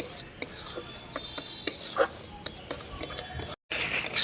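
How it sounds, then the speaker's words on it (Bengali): Semolina is dry-fried in a pan and stirred continuously, a spoon scraping and rasping against the metal in quick repeated strokes, close and fairly clear, with a short gap of silence near the end. "গুঁড়ো করে রাখা সুজিটা এইভাবে অনবরত নাড়াচাড়া করতে থাকবো সুজিটাকে একেবারে লাল করে ভেজে নেব"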